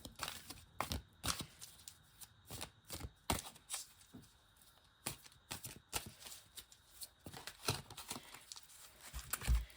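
Tarot cards shuffled by hand during a reading, a steady run of quiet, close riffles and soft slaps repeating irregularly throughout, with no speech.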